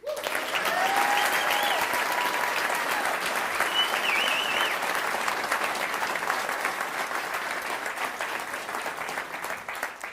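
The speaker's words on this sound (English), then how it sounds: "Let's give a huge round of applause to them and our production partners" A large audience at a studio showcase event applauds loudly and continuously, a dense roar of clapping with a few whoops early on, holding steady before easing slightly toward the end.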